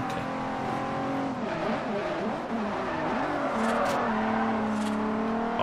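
Race cars in Forza Horizon, a GTR among them, hold a continuous engine roar that rises and falls with shifting pitch, loud and steady throughout, with a voice talking over it.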